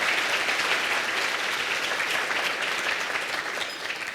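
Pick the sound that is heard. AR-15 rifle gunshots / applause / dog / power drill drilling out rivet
applause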